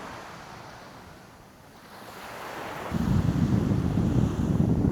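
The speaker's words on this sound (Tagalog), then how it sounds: "Sarap pakinggan ng alon." Ocean surf breaking on a Calaguas Island beach in the morning, a steady wash of waves that swells louder partway through, with wind buffeting the microphone and no talking.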